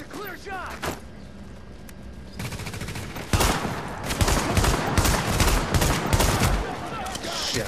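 Sustained gunfire in The Division's Dark Zone during a solo Season 2 run, loud bursts of automatic fire rattling almost continuously from about the third second on, with a voice speaking over the shooting.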